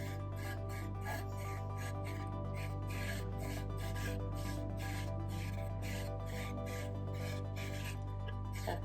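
Steady, intense rasping scrape from inside a GFO and carbon reactor on an aquarium setup, continuous at close range over a constant low mechanical hum, with no talking.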